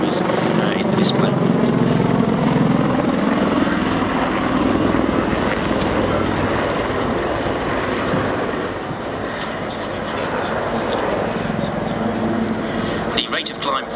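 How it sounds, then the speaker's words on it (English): Royal Navy Wildcat and Lynx helicopters climb to a high hover at an air display, their loud rotor thrum and engine roar filling the air continuously while an announcer's voice carries over the noise. "I'll talk you through some of the differences between the two aircraft as they come to the high hover, ready for the first of the nose overs in the display."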